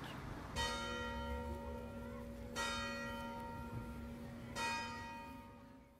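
Automatic church bells strike three times at even intervals, each stroke ringing out clearly and fading slowly, heard at a moderate distance with no voices.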